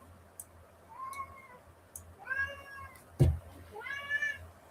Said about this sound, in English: Cat is cranky. Don't know what his problem is.